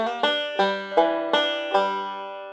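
A banjo plays a common lick as a quick run of about six bright, plucked notes, each with a sharp attack and ringing decay, close and clear with no talking.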